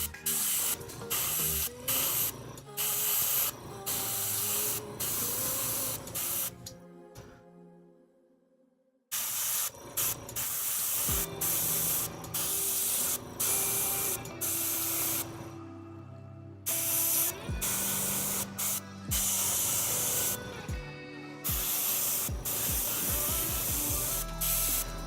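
Paint hisses from a spray can onto a mahogany piece in long, loud, close bursts with short silent gaps between passes.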